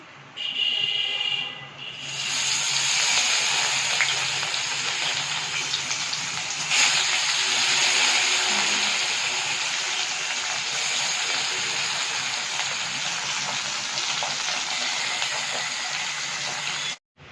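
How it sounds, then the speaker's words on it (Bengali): Bata fish sizzling steadily in hot oil for a bottle gourd curry, a loud continuous hiss that starts abruptly after a short quieter moment and holds evenly throughout. "লাউ দিয়ে বাটা মাছের রসা করার জন্য যে বাটা মাছটা প্রথমে ভেজে নেওয়া হচ্ছে"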